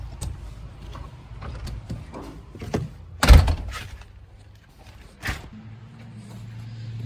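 Door of a 1987 Chevy 3500 454 pickup fitted with a new door handle shuts with a single loud, close thunk midway, surrounded by softer latch clicks and rattles over a low rumbling background.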